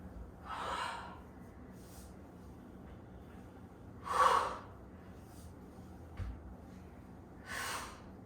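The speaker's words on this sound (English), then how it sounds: "Exhale out of it." Three forceful exhaled breaths during a full-body dumbbell circuit, spaced a few seconds apart, each a short breathy burst close to the listener over a quiet background.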